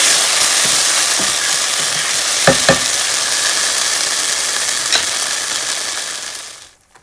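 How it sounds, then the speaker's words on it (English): Cauliflower fried rice stir-fried in a hot, well-oiled pot gives a steady broadband sizzle, with a few sharp scrapes and clinks of the spatula near the start before the frying fades out at the end. "Doing the stir fry, so your heat needs to be up"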